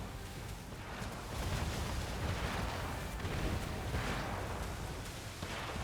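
Dense, continuous rumble of mortar fire and blasts in Assassin's Creed III, a thick low roar that swells from about one second on and stays loud throughout without clear individual bangs.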